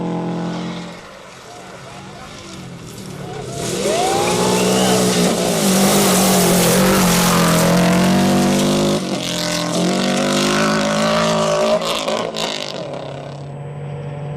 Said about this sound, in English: Owen Jones puts on a great driving display for the appreciative spectators